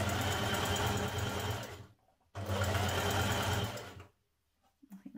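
Sewing machine running a short zigzag stitch, length just under two, in two steady bursts of about two seconds each separated by brief pauses, close and fairly loud.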